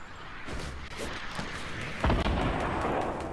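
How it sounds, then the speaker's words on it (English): Rockets firing and exploding in a battle-royale video game: scattered thumps and blasts build to a heavier, louder explosion partway through, followed by a sustained rumbling roar of continued fire. "They've got rockets and everything."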